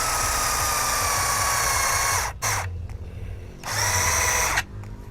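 A power drill bores into hard wood in loud, close bursts: a long steady whine, a short break, a second burst, then it winds down and stops, with no voices over it.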